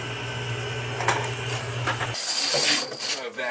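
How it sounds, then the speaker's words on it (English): A vacuum cleaner runs steadily as it cleans the top of a boiler burner, a continuous whooshing hum with scraping and rattling as the nozzle moves; the low drone drops out partway through while hissing suction continues. "I'm gonna vacuum out the top."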